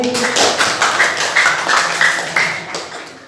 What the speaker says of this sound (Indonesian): Tepuk tangan buat Rohani